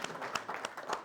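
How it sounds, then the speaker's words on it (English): An audience at a match fishing cup final awards ceremony applauds a placed angling club, a short burst of dense hand clapping from a modest crowd, close and lively. "Round of applause"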